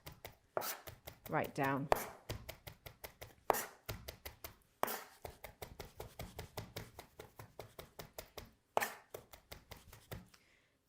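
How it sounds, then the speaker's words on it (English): Steady rapid knife chopping of parsley on a board, a fast run of close, crisp cuts with brief pauses, while a person speaks a few words. "probably be a minute or so of just cross-chopping through"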